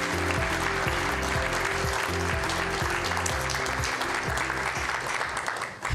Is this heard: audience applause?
yes